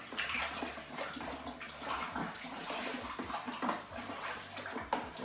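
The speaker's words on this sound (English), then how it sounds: "And I'm just going to give it a little stir," Plum wine mixture swished and stirred in a fermenting bucket, a continuous close sloshing and gurgling of liquid at moderate level with no speech.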